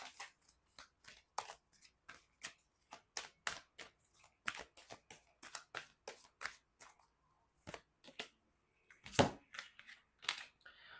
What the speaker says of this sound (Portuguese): para a gente tirar algumas cartas